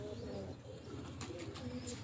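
Pigeons coo from a rooftop in a low, continuous murmur that overlaps itself, with a few faint chirps above it.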